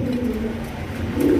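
Pigeons offered for sale as good breeders coo in a low, continuous murmur, close and moderately loud for a brief moment.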